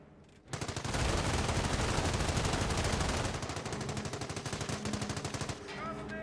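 Sustained MG42 machine gun fire in the video game Company of Heroes: a loud, rapid rattle of gunfire that starts abruptly, holds steady for about five seconds, then tapers off near the end.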